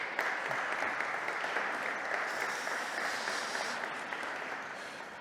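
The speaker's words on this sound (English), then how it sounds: "And you can give them a round of applause." A conference audience claps for panelists taking the stage at a plenary session, a steady, moderately distant round of applause that gradually tapers off.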